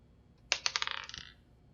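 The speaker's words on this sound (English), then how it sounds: "I'll roll the infinity dice to see if we stop or keep going." Dice clatter across a hard surface, a sharp first strike followed by a quick run of smaller bouncing clicks that slow and fade within about a second, heard alone.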